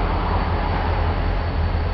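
Steady low rumble of a heavy freight train switching on the Bay Line Railroad, continuous and fairly loud, with a deep droning hum and no clear talk.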